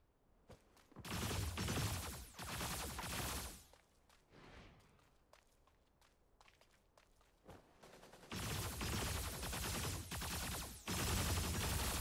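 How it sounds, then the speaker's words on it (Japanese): Gunfire in the video game Super Mecha Champions, with long bursts of rapid automatic fire broken by short pauses and scattered single shots, loud and close, with no talk. "銃声が聞こえた"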